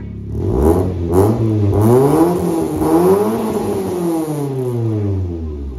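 A project car's engine revs hard through a newly installed exhaust and exhaust piping, rising and falling in repeated pulls, loud and close with a throaty rasp and no talking over it.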